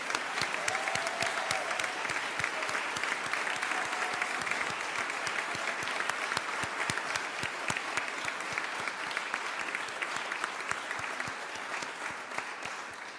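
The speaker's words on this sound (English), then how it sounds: "Please join me in a round of applause for their leadership." Sustained applause from an audience at a governor's press event on gun-related bills, a steady dense clapping that holds evenly throughout and tapers slightly near the end.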